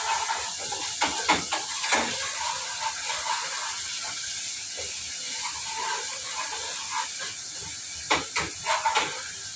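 Garlic sautés in a hot pan with a steady, close sizzling hiss, broken by occasional louder crackles and pops throughout.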